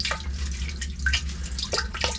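Water drains from a freshly repaired main water line ball valve in an outdoor pit, a close steady trickle with scattered drips and splashes.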